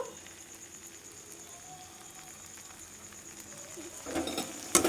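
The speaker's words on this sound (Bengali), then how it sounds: "এবারে সিদ্ধ করা আলুটা দিয়ে দেবো দিয়ে খুব ভালোভাবে কষিয়ে নেব" Boiled potato sautéed with tomato and onion in a pan, with a soft, steady sizzle and light stirring that grow into louder scrapes and spatter near the end, close up with no talking.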